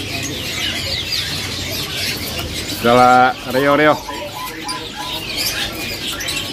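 Caged birds for sale at a large Southeast Asian bird market chirp and coo in short, close bursts, with a louder harmonic run of calls in the middle, over steady crowd chatter and nearby conversation.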